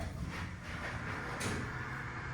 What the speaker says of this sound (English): Go down to 1 and shut the doors.